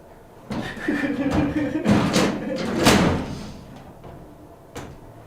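A drawer slides open and shut in a house, with a few wooden knocks and rattles of its contents, close and moderately loud, while a person talks over the movement.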